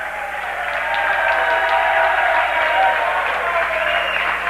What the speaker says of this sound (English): And a cheer goes up from the Rutland crowd.